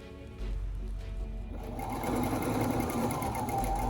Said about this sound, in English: Then you just sew along that seam where we just pinned